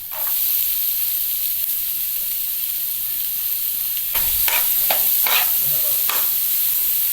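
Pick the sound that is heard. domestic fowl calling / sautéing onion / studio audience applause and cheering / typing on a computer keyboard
sautéing onion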